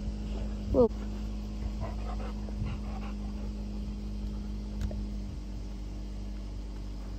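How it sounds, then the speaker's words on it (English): A small dog gives a single short yelp near the start, then soft whimpers over a steady low mechanical hum. "What you doing, little dog?"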